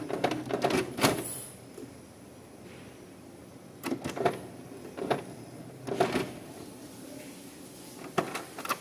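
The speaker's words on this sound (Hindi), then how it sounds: "देखिए अभी ये प्रिंटर का जो केस जो है वो मूव हो रहा है" An HP Ink Tank 315 printer's head carriage shuttles after power-on, giving faint whirring runs broken by a series of sharp mechanical clacks spaced a second or so apart.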